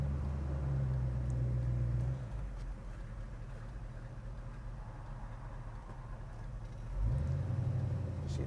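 A 1967 Ford Mustang engine idles steadily at low volume with an even rumble, and the pitch rises briefly at the start and again near the end.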